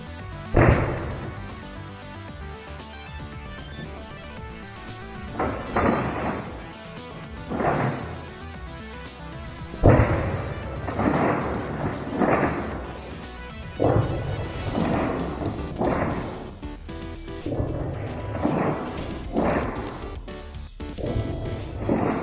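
Nerf Rival Boba Fett Apollo blaster firing indoors, a series of sharp, loud mechanical snaps and thwacks at irregular intervals, some clustered in quick bursts, with no voices.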